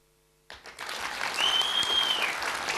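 After a brief silence, a room audience breaks into applause that swells within a second and holds as a dense, loud clatter of clapping, with a short whistle rising through it.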